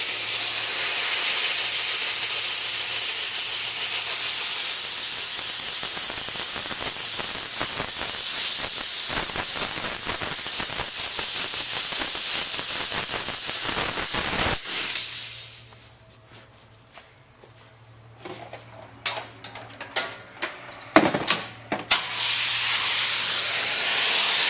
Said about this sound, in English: this is 212 degrees live steam at a pinpoint accuracy right here